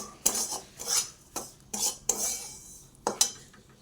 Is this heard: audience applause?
no